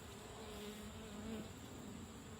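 Honey bees buzzing in a steady, dense drone right after a sugar shake, the hum close and continuous throughout with no talk.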